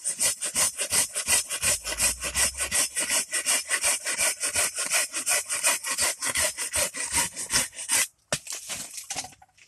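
An axe trims a wooden spoon blank toward the end of the handle with rapid, steady scraping strokes, close and loud, running almost continuously before a brief pause near the end.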